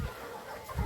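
Chickens cluck inside a poultry shed holding about 200 birds, with a short burst of close fowl calls at the start and end and quieter shuffling in between.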